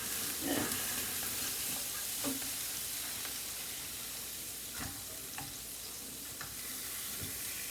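Ham steak frying in a pan, a steady hiss and crackle of sizzling fat running throughout, with a few sharper pops and taps standing out against the continuous close-up sizzle.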